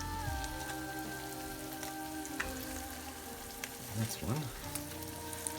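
Eggs sizzling in a frying pan, a steady crackling hiss that holds throughout with a few louder pops, while a voice speaks briefly over it.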